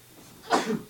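A single short sneeze, fairly faint, bursts out after a moment of quiet room tone.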